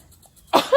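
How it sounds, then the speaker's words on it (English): One short, sharp sneeze bursts out after a near-silent pause and ends in a brief voiced tail, close and fairly loud. "Like a sneeze."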